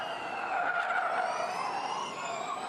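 A Formula E race car brakes hard into a chicane during E-Prix qualifying in Diriyah, its high electric whine and tyre scrub sustained and fairly loud, with a faint crowd or track wash underneath.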